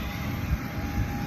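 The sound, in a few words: airplane engine at the airport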